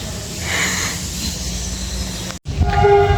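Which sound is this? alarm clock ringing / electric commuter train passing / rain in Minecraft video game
electric commuter train passing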